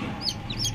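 A few high, thin peeps from a small golden chick with stripes on its back, hatched near a hen, come close and short in a quick scatter over faint low background noise.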